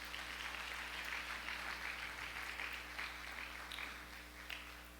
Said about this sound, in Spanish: Vamos a dar una ofrenda de palmas.